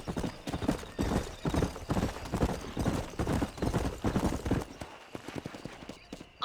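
Horse hooves gallop in a fast, steady rhythm of close, heavy thuds in a Red Dead video game scene, continuing for several seconds before easing off near the end.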